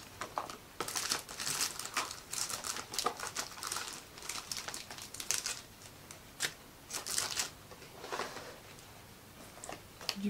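Paper for gift wrapping is crumpled and handled up close in quick, irregular rustling bursts, crinkling on and off throughout with no talking.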